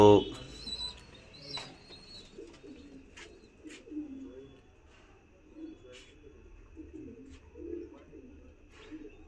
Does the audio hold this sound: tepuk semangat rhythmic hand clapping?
no